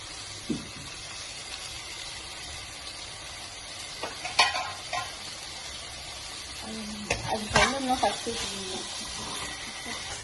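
Ginger garlic paste sautés in a pan for vegetable kurma, a soft steady sizzle with a few louder scrapes and clatters of stirring, close by, while a voice speaks faintly at times.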